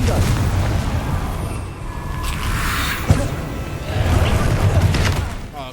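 A Confringo fire-blast spell cast in the game Hogwarts Legacy: a muffled booming burst with crackling rumble, followed by further thuds and fizzing impacts amid ongoing combat noise.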